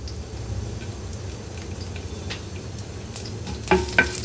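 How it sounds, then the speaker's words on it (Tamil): Urad dal, cumin, fennel and dried chillies frying in a pan, a soft continuous sizzle with light stirring scrapes and a few louder crackles toward the end. "நல்லா இதை வறுத்துக்கணும்."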